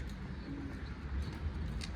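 Soft pigeon coos repeat over a steady low rumble of background noise, with a few faint chirps in between.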